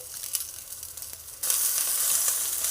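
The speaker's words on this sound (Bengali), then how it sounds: "এটাকে ফ্রাই হতে দিতে হবে।" Bhetki fish paturi fries in oil in a covered pan over low heat, giving a soft hiss and crackle that jumps to a louder, steady sizzle partway through.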